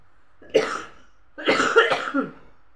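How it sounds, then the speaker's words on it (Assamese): Someone with a cold coughs close by, first one sharp cough and then a short burst of harsh coughs after a brief pause. "হাৱা লাগি গৈছে আৰু কাহটো আহি গৈছে"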